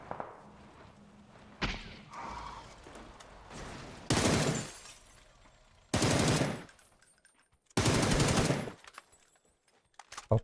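Bursts of rapid automatic gunfire in PUBG, three loud sustained volleys separated by quieter gaps, with a few softer sounds before them.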